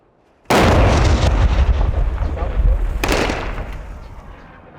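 Heavy explosions and artillery fire during fighting in besieged Kobani, beginning with a sudden loud blast that rolls into sustained rumbling booms and a second sharp burst before slowly fading.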